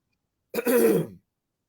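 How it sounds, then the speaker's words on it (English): One short throat clearing, close and distinct, in an otherwise silent moment. "Just had to clear my throat"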